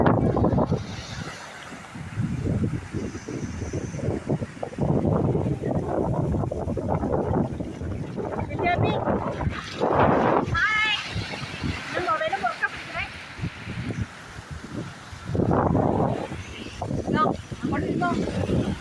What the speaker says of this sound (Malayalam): കൊല്ലം കടപ്പുറത്താണ് നമ്മളിപ്പോൾ നിൽക്കുന്നത്